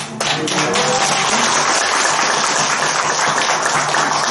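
Audience applause fills a Buddhist Sunday dharma service, a dense, steady wash of many hands clapping for several seconds without letup.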